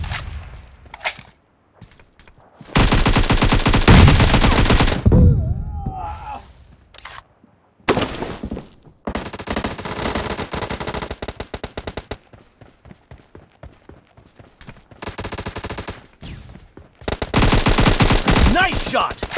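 AKM gunfire in PUBG Mobile, loud bursts of automatic rifle fire separated by short pauses and single shots, close and harsh, with brief game voice callouts between the volleys.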